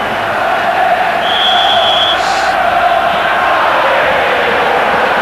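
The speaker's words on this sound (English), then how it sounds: "And the Italians in the crowd sensing a triumph." Inter Milan supporters in the stands at the 1994 UEFA Cup Final first leg against Casino Salzburg, a loud, steady stadium roar throughout with a brief high whistle-like tone midway.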